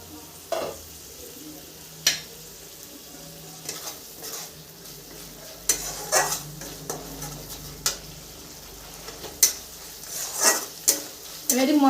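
Spice paste for a mustard bhola fish curry fried and stirred in a pan after a splash of water, a soft sizzle under repeated sharp scrapes and clinks of a spatula against the pan, irregular and close, no talk.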